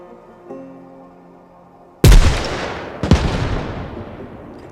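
Two launcher shots in Arma Reforger: a heavy booming blast, then a second sharp report about a second later, each followed by a decaying rumble, loud against a quiet background.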